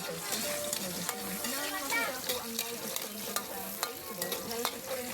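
Pork curry cooking in a pan, with steady frying sizzle and stirring scrapes running throughout, plus a few sharp clinks of a utensil against the pan.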